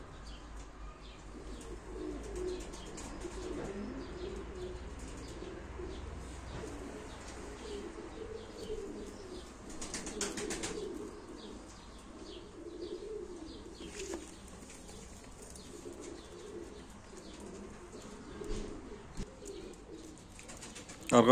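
Turkish show pigeons, a male among them, coo softly in a loft at a live auction, low repeated coos with scattered chirps and occasional wing flutters, faint and fairly distant.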